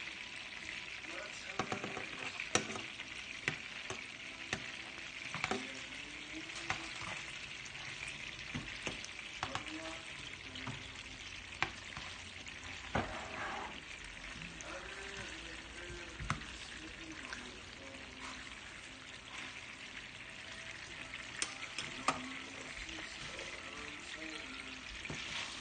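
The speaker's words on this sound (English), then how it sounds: "Listen to that sizzle. I love the sound of that sizzle." Food sizzles steadily in a hot pan, with occasional crackles, pops and utensil scrapes; a voice murmurs faintly in the background.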